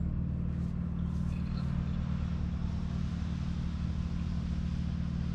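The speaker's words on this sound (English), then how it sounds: "I'm just going to turn on the fuel pump." A 1950 Pontiac Silver Streak's fuel pump runs steadily, filling the carburetor bowl, a constant low mechanical hum that holds at an even level throughout with no talk over it.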